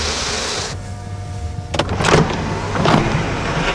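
The moonroof motor of a 2019 Audi A6 sedan gives a steady electric whine for a moment, then stops, followed by a few soft clunks and mechanical shifts inside the cabin, close and clear.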